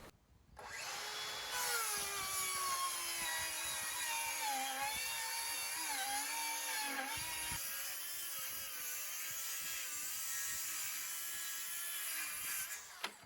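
DeWalt cordless circular saws running on a 6 amp hour FlexVolt battery, ripping through wood in one loud, sustained cut with a steady high whine that dips slightly under load, then spins down at the end.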